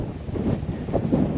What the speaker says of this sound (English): Today, it's another windy freaking day.